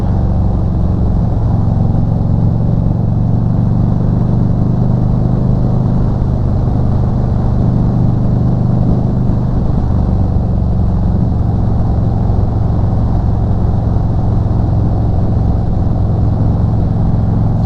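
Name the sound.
motorcycle exhaust through Dean Speed Rampage slip-on mufflers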